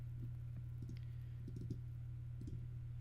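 Mouse clicks on a computer, a few scattered single and double clicks, quiet and close, over a steady low electrical hum.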